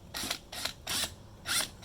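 A bolt being tightened on the mulching blade of an EGO 21-inch 56V lawn mower, heard as four short, crisp ratcheting bursts in quick succession, fairly quiet and close with no talk.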